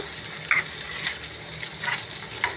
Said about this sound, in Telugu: పోపు బాగా వేగనేయండి